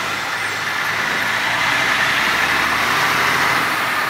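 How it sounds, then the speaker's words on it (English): A loud truck rumbles along a busy street of the 76 Strip in Branson, its heavy engine roar steady and close, filling the whole moment with a broad continuous drone of road noise. "Don't mind the loud truck."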